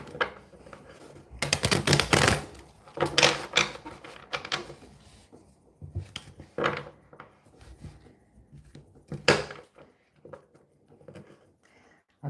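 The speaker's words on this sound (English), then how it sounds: "I'll give these cards a couple more shuffles." Crisp papery riffling and slapping of tarot cards being shuffled in several quick bursts, with softer handling sounds and taps between them, fairly close.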